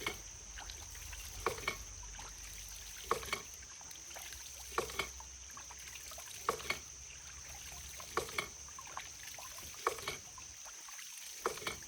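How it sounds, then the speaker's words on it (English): Water runs in a spring house fed by a pulsing water pump: a faint, steady trickle with soft regular knocks about every second and a half, continuing alone throughout. "Turn the water on."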